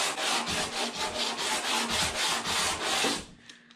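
Close, rhythmic back-and-forth strokes of 60 grit sandpaper on a plastic bumper of a 1993 Ford Escort GT scrape rapidly for about three seconds, then stop abruptly.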